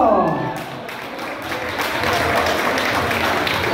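Audience applause at a live chamamé music show, a loud, dense wash of clapping that swells and continues steadily throughout, with a voice briefly heard at the start.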